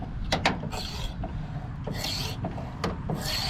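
A faulty tailgate lift-assist strut on a 2014 Toyota Tundra gives a rubbing, rasping squeak in short irregular bursts over a low mechanical hum, close and moderately loud.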